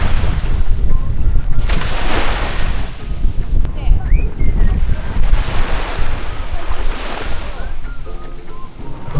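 Ocean waves washing onto a Japanese shore on a hot day, loud surging swells rising and falling twice, mixed with wind buffeting the microphone.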